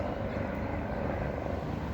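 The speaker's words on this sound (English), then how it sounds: "is that an airplane? Helicopter. That's pretty loud." A helicopter flies overhead, a loud steady broadband rotor and engine roar that fills the whole clip without letting up.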